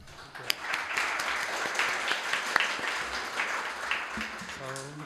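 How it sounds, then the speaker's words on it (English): A conference audience gives a welcoming round of applause for a speaker, moderate and fairly distant, with scattered sharper claps standing out before a voice begins at the very end. "Please welcome Italo with big applause."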